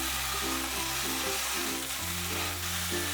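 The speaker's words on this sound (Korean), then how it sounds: "센 불에서 볶아줄게요." Chicken and potatoes sizzle loudly in a hot pan over high heat, a constant crackling hiss as they are stir-fried for Korean braised chicken, over a low steady hum.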